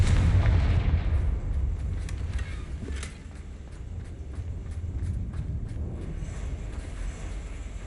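The Confringo blasting spell in Hogwarts Legacy goes off as a deep, rumbling explosion that fades into a low, booming tail, with scattered crackling impacts afterward and no voices.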